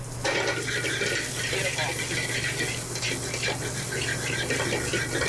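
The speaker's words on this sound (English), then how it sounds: "he's going to drop in his jalapenos and onion. Just kind of cook that down a little bit." Pork belly with jalapenos and onion sizzles steadily in a hot pan in a kitchen, a constant loud frying hiss with light stirring, while a voice speaks briefly over it.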